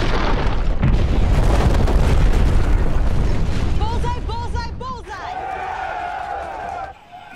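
Bombs explode on a uranium facility in the film Top Gun: Maverick, with deep, heavy rumbling blasts for several seconds under voices, then a drop to warbling, whining tones.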